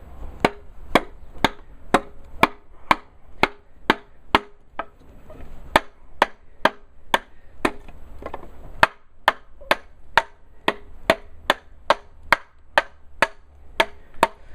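Roughly 30 sharp chops of a 7-ounce Glock knife biting into wood, struck at a steady, brisk rhythm with a brief pause near the middle, each impact loud and close with no talking.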